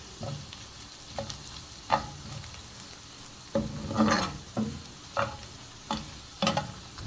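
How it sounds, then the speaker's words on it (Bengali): Dried chilies crackle and sizzle in hot oil, with repeated scraping stirs and clinks every second or so over a quiet background hiss. "এখন আমি এটার মধ্যে দিলাম শুকনা মরিচ মরিচটা আমার ভাজা"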